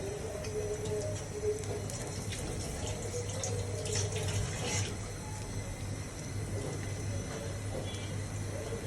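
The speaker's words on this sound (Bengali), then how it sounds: "সরিষার তেল এভাবে ফুলে পেকে একাকার হয়েছে, দেখেন ফুটন্ত" Mustard oil boils in a pan, giving a steady, fairly quiet bubbling hiss that runs throughout without pause.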